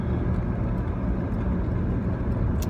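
Steady low road rumble from inside a moving car, a continuous engine and tyre drone with no talking.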